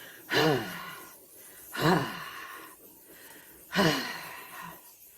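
Three loud, breathy exhales come at a slow, even rhythm, each a forceful sighing release of breath with quiet pauses between.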